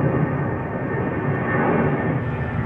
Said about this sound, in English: Should be able to hear a plane in the background